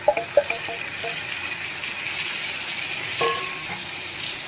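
Tomatoes are added to onion and garlic frying in a pan for a South Indian tomato coconut chutney, giving a few sharp clicks and then a continuous moderate sizzle with watery hissing that swells again briefly near the end.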